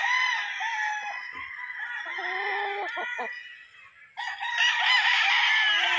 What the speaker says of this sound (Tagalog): Yung ibang manok bumaba na